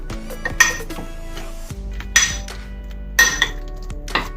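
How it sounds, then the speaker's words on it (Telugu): A spoon clinks and scrapes against a bowl while ground mustard powder is mixed into food for a radish recipe, with a few sharp metallic knocks spaced over several seconds, close and moderately loud. "ఇప్పుడు ఇదంతా ఒకసారి ఇలా కలిపేసుకోవాలి"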